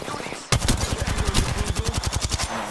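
Rapid automatic gunfire in the Apex Legends game starts abruptly after a brief pause, a fast, loud, evenly spaced stream of shots rattling close by with faint voice fragments underneath.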